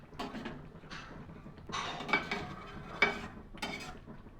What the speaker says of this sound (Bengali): তাহলে একটু করে নাড়াচাড়া করব